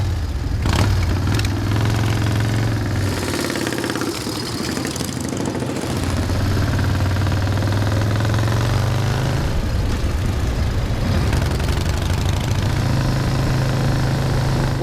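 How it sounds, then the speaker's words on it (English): An 85-year-old Indian vintage motorcycle with hand shift runs steadily at a vintage track event, a loud, continuous low engine drone with shifting pitch and occasional revs throughout. "Here we go, hand shifting on an 85-year-old Indian."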